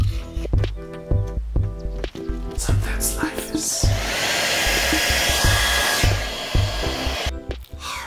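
A hair dryer blows steadily on a black PVA-soaked part of a scratch-built robot miniature, a loud close whooshing roar, while a voice speaks over the start.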